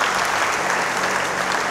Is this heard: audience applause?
yes